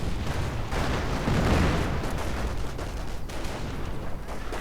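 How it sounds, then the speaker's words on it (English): Artillery and mortar fire in a World War II strategy game, a dense continuous rumble of distant booms and blasts layered together, loud and unbroken for the whole stretch. "Mortar rounds abundance. Artillery getting called in the Stu. The Sturmhaubitze."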